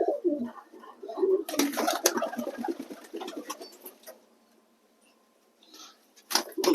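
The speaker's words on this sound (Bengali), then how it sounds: "খুব লড়াঝড়া করছে পায়রাগুলো।" Blue satin pigeons in a loft give low, repeated coos and scuffle with wing flutters. The sound comes in clustered bursts, then a quiet gap, and a last short burst at the end.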